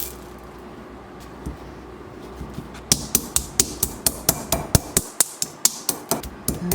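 Whole multicolored peppercorns and pimento seeds are crushed with a series of sharp, evenly spaced pounding knocks, about a dozen close hits in a steady rhythm after a quieter lead-in.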